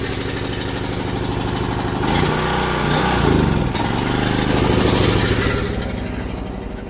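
A diesel heater, just fueled, runs with a loud, steady mechanical drone and rapid engine-like chugging, swelling slightly in intensity midway through, with no voices heard.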